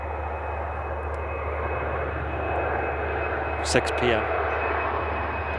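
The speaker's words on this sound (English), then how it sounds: "Tap Air Portugal, Embraer heading back to Lisbon." A TAP Air Portugal Embraer jet passes as a steady broadband engine roar, with someone talking over it and a brief clatter partway through.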